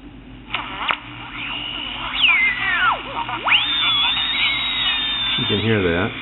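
A small radio switched on and tuned as part of a homemade wire and conduit tracer, giving sweeping whistles and squealing tones over a steady hiss, rising and falling across the band, close and fairly loud with no talk.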